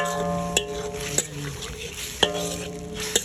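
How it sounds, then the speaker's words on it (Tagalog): Tomatoes being stirred in a cooking pan, four sharp spatula scrapes and taps spaced apart over a low sizzle and a steady hum in the background. "ihalo na natin ang kamatis para maluto na at madurog na si kamatis"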